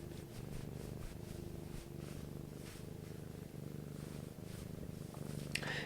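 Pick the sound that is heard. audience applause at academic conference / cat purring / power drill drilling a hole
cat purring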